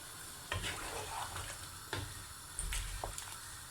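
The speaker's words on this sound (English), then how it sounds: "I'm going to add half a cup of boiling water now" A curry pan sizzles steadily over high heat while half a cup of boiling water is poured in and stirred, with a few clunks from utensils against the pan.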